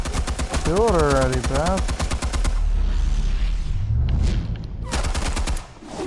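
AK rifle gunfire in a video game, rapid bursts of automatic shots in the opening seconds and again near the end, loud and close, with a voice talking over part of it.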